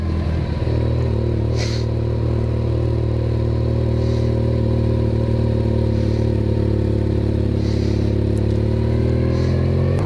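A motorcycle rides along a coastal road, its engine droning steadily and loudly throughout with a constant mid-range hum and wind rush, no voices.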